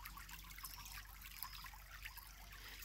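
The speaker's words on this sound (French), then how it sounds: "Et je vais vous laisser quelques instants de connexion avec la rivière." River water trickles and burbles steadily, soft and fairly distant, with no voices.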